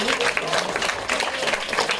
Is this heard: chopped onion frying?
no